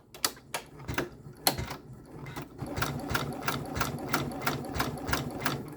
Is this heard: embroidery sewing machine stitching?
yes